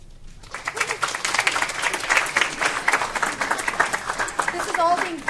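Audience at a business strategy and data science case competition briefing breaks into lively applause, a dense, fluctuating burst of clapping that swells and stays strong, with voices faintly mixed in toward the end.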